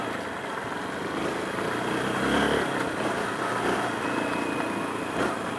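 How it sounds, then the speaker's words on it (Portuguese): A Honda Bros 160 motorcycle being ridden, its engine giving a steady, continuous drone with road and wind noise, swelling slightly in the middle and holding fairly loud throughout. "A moto responde bem, pessoal."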